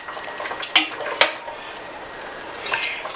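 Rouladen lifted out of a pan into a serving dish, with a few sharp clinks of utensil on cookware standing out over a steady background hiss of cooking.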